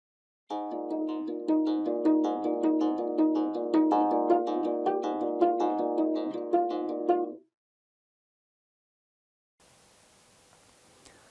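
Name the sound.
geomungo played pizzicato with fingers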